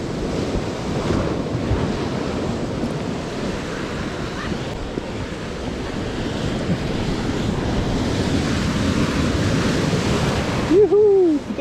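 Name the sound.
ocean waves breaking on the shore while fishing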